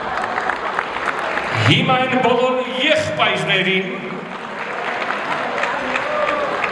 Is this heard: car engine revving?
no